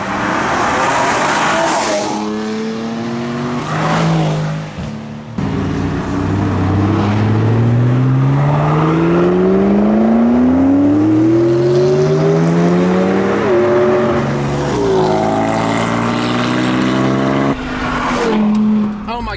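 Car engine revving hard on a mountain pass drive, loud and close, with rising and falling gear-change sweeps and tires squealing through the bends.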